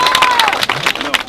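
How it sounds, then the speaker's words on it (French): Crowd applauding a professor at an outdoor permaculture inauguration in Chambourcy, a burst of clapping and a few cheers mixed with overlapping voices and talk close by. "on applaudit le professeur"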